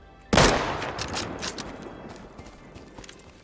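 A single loud, close gunshot cracks in the survival shooter Deadside and rings out into a decaying echo, followed by a few fainter shots or impacts.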